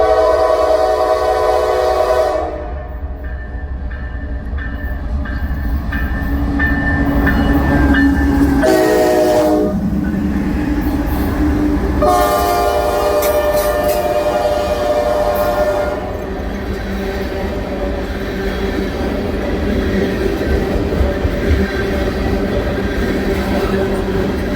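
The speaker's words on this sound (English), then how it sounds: "The train was U705 with a pair of Norfolk Southern -9s leading it." Freight train U705, led by a pair of Norfolk Southern locomotives, rumbles past loudly and close while its horn blasts in several long sounds, with a steady clatter of rolling cars underneath.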